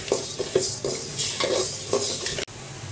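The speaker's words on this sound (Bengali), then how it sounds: "আমি ডালটা একটু ভেজে নিচ্ছি" Mung dal being dry-fried in a pan for a fish-head muri ghonto, with a soft sizzle under repeated scraping strokes of a spatula against the metal, close and steady.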